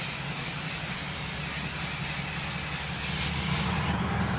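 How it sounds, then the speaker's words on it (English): Stick-and-spray adhesive hisses steadily from an aerosol can onto a Cricut cutting mat. The spray is close and continuous, with a slightly louder burst near the end before it stops. "I'm going to flip it the other way, and I'm going to spray it real good again"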